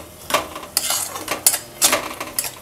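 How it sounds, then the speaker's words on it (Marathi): A spoon scrapes and clinks repeatedly against a pan while ground spices and chili powder are stirred together for dhaba-style sev curry, a quick, close series of rhythmic strokes over a faint sizzle. "छानपैकी सगळे मसाले एकत्र करून घेऊया"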